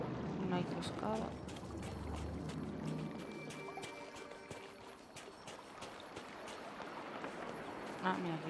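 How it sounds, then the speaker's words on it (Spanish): A waterfall in Disney Dreamlight Valley gives a steady pouring, splashing rush beneath a person talking throughout. "Aquí hay cascadas."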